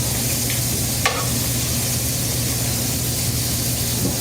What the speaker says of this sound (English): It's searing away.